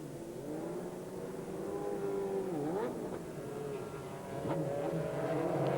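A French team's race car with fuel starvation trouble pulling away from a refuelling stop at a 2001 American Le Mans Series race, its engine climbing in pitch through rising revs with a gear change, loud and continuous without voices.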